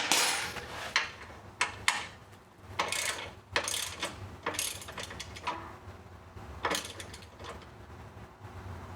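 Ratchet tightens bolts on Rebel Performance bag guards fitted to a 2022 Harley: bursts of rapid close clicking repeat in short runs between brief pauses, fairly faint, with no voices.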